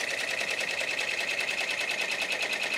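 An embroidery machine stitches a design onto a hooped denim jeans leg, its needle hammering in a fast, steady, even rhythm that runs on unbroken and fairly loud.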